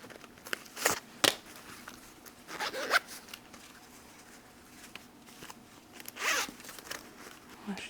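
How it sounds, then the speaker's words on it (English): A roll of washi tape is handled and put back, giving a few sharp plastic rattles and scraping bursts that are separated by quiet gaps. "Washi tape going back."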